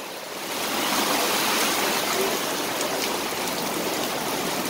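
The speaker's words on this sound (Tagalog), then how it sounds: "Lakas ng ulan." Dense, steady hiss of heavy typhoon rain pouring down, broadband and continuous after a brief quieter start, with no voices.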